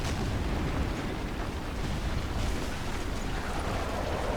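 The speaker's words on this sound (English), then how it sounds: "Oh no, more artillery." Artillery shells explode in the War Thunder tank game, a dense continuous rumble of heavy booms and blasts, loud and sustained.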